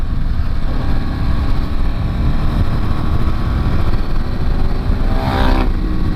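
A Ducati 916 motorcycle engine runs steadily and loud, a continuous rumbling drone that swells briefly near the end as the revs rise.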